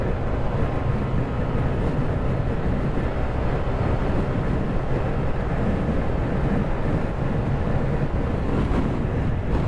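A 2022 Yamaha NMAX 155 scooter runs at full throttle on the road, its engine drone mostly buried under heavy, steady wind rush on the microphone.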